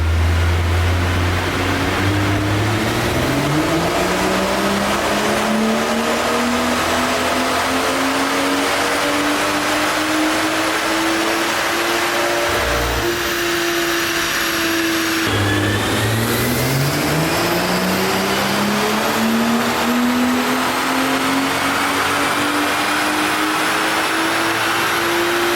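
A BMW M140i engine revs on a dyno at MSL, climbing steadily through long loud pulls, dropping back briefly near the middle, then rising again in a second sustained sweep.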